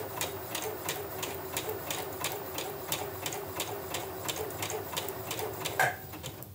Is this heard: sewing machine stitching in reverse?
yes